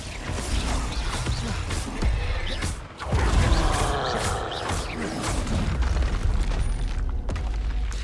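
Incendio and Glacius spells fired in quick succession during a Hogwarts Legacy fight, a mix of booming blasts, creaks and crashing magical effects. A sharp surge comes midway through, and the clatter of combat runs continuously.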